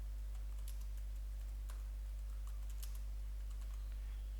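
Someone types a message on a computer keyboard, producing quiet, irregular clicking keystrokes over a low steady hum, with no talking.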